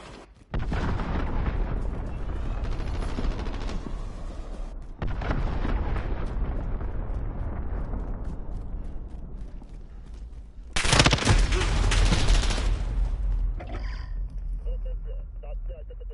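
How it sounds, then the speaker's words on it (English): Cruise missile strikes in a military video game set off a chain of heavy, booming explosions, loud and close, with long rumbling tails and a sharper, brighter blast near the end. "Allied cruise missile launched."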